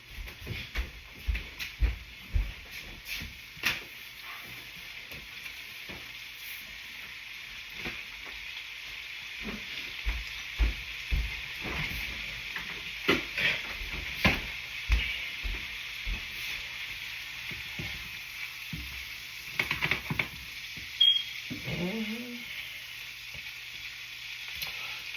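Shrimp and a thick roux fry in a pot for a Southern étouffée, a soft steady sizzle broken by frequent spoon stirs and scrapes, fairly quiet throughout.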